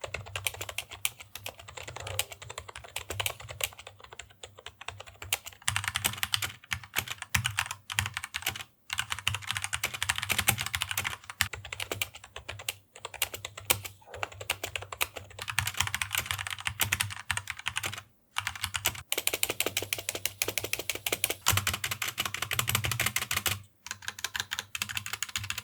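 Typing on a Redragon K512 Shiva membrane gaming keyboard, a long run of soft, rapid, muffled key presses in quick bursts with a few short pauses, close and steady, with no voices.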